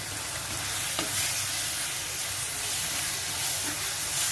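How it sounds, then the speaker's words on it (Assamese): Spices and okra fry in a pan with chopped tomato and a little turmeric, giving a steady bright sizzle and hiss that holds at moderate loudness throughout, with no voices over it. "এনেকৈ 2-3 মিনিটমান সময় ভাজিব।"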